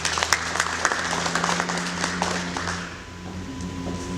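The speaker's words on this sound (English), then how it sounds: "Let's give them a round of applause, please." Applause from a business networking breakfast audience, a burst of sharp distinct claps over a low steady hum, thinning out and fading after about three seconds.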